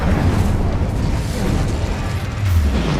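Incendio fire spell cast in Hogwarts Legacy, a roaring, rumbling burst of flame that sustains loudly for a few seconds amid combat noise, with no talking.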